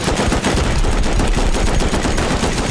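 Rapid, continuous automatic gunfire in the video game Rust, fired up at beds during a raid, loud and close with no pause across the whole stretch.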